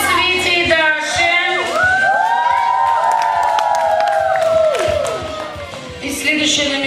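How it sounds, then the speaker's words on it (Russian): A crowd of children at a summer camp awards ceremony cheers, whoops and claps for two performers, loud and close, with high shouts sliding over scattered clapping throughout. "Аплодисменты Свете и Даше."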